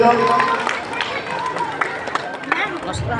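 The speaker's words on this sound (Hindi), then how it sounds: "एक बार जोरदार तालियां बजाएंगे सभी लोग।" Crowd clapping at a Republic Day speech event in Bihar, scattered sharp claps mixed with chatter and voices, fairly close and busy throughout.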